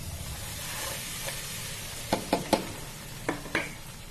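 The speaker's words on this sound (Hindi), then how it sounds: "घी गर्म हो चुका है, तो मैं ये गुड़ भी डाल दूंगी इसके अंदर।" Jaggery goes into hot ghee in a pan after cashews and almonds were fried in it. A soft steady sizzle runs throughout, with several sharp scraping knocks of stirring near the end.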